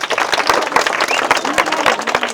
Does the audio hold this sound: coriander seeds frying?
no